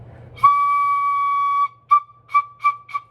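A recorder-type pipe holds one long, steady, clear note for over a second, then plays several short detached notes, played alone in a quiet room.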